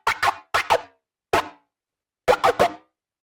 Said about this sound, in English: there's this one effect in here, sounds kind of like scratching